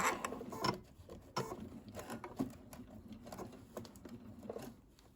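A sewing machine stitches a spaghetti strap in short bursts of rapid mechanical clatter separated by brief pauses, fairly quiet and close with no talking.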